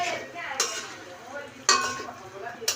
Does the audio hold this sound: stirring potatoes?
yes